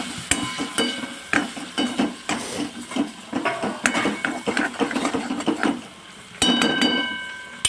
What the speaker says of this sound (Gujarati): હવે આપણે બધા મસાલાને મિક્સ કરી દઈશું